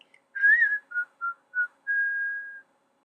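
A person whistles a short tune alone: a few quick separate notes, then one long held note, clear and close against silence.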